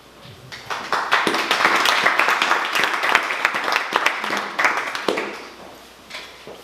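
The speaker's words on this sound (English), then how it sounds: "You're so kind, you clapped ahead of time before you heard anything." An audience at a history lecture on Oceanside claps in sustained, dense applause that builds quickly, holds loud for several seconds and then tapers off near the end, with no talking over it.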